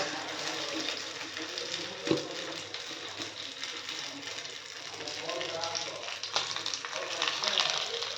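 Rava-coated fish frying on a hot tawa gives a steady, even sizzle that runs underneath a person talking throughout, with an occasional soft tap.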